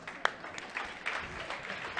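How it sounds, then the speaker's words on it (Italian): At a live stage show, an audience gives faint, scattered applause with a single sharper clap near the start. The clapping is quiet and loosely spread out rather than a full ovation. "Ma sì, dai, applaudiamolo"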